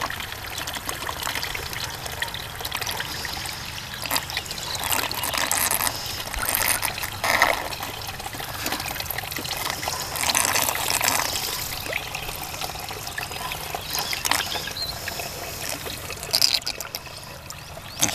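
Water rinses dirt through a small gold spinner into a gold pan below, a steady splashing, trickling pour that runs nearly continuous and close, with a few louder gushes and no talking.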